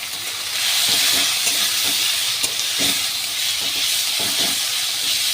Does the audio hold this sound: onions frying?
yes